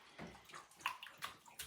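Clean tap water in a bath, faint soft sloshing and small splashes with a few brief bright drips and gurgles, quiet and close.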